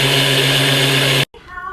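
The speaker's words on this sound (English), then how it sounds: "2 cups of oats. Grind it." A blender grinds two cups of oats with a loud, steady whirring roar that runs without a break, then cuts off sharply. After a short silence, softer, uneven noise follows.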